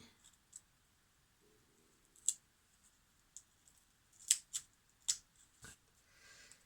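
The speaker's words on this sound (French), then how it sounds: "Ça, c'est des ciseaux anti-adhésifs." Anti-adhesive scissors cutting tape: scattered sharp snips and clicks, several in quick succession, close and fairly quiet against a silent background.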